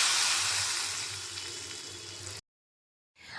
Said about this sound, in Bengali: আলাদাভাবে আমি রসুনটাকে যে ভেজে দিয়েছি সেটা এখন আমি ডালের মধ্যে খুব ভালো মতন মিশিয়ে নিচ্ছি